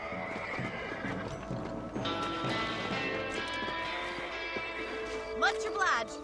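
Horses in the Red Dead Redemption video game whinny loudly near the end over steady hoof clip-clops and game ambience, with voices talking underneath.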